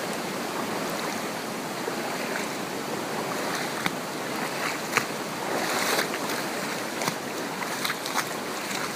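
Backyard floodwater flows in a continuous broadband rush, steady and fairly close, with scattered small splashes and knocks and no voices.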